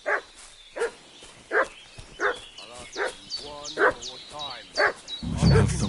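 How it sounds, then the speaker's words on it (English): Dog barking in Kingdom Come: Deliverance 2, a series of sharp, evenly spaced barks from a fairly close dog, with ambient game noise and a louder rustle at the end. "What's that dog making such a fuss about?"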